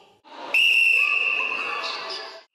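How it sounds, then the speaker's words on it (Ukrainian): A single long referee whistle blast opens a children's school sports competition, sounding loud and close for about two seconds with no talk over it. "старт змаганням задає звук свистка"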